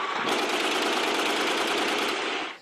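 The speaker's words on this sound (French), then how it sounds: "des tirs de victoire résonnaient dans les rues de la ville" Sustained burst of celebratory gunfire ringing through city streets in Aden after the coalition retook neighborhoods, a dense continuous rattle of rapid shots lasting a couple of seconds, loud and close, with no voices.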